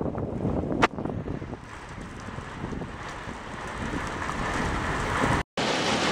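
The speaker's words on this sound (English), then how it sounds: "No, I told you to hear the rain. Like, this rain is no freaking joke." Heavy rain pours outside as a dense, continuous roar with wind buffeting the microphone, broken by one brief dropout near the end.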